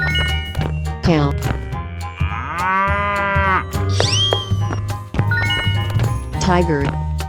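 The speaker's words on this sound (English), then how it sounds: "Cow." A cartoon cow in a 3D animal video game gives a long, loud moo over bouncy game music and chiming jingles, with a voice calling out nearby.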